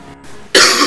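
A single sharp cough bursts out after a quiet stretch, loud and close, with no talking over it; it comes from a child in a home setting in a political election commercial.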